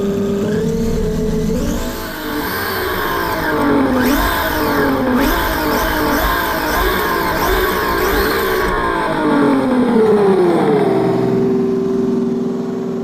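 Simulated engine sound from a GT Power electronic sound unit mounted on a 1/12 scale RC truck, loud and close, revving up and down repeatedly in sweeping waves with a steady idle at the start and end.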